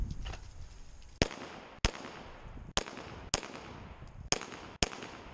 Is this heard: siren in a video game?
no